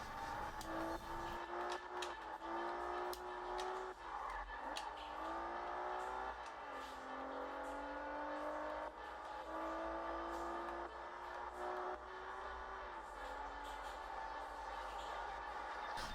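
A racing car engine in Gran Turismo played on a Samsung Z Fold 3 phone whines and revs steadily, its pitch climbing and dropping with each gear change, loud and continuous from start to finish.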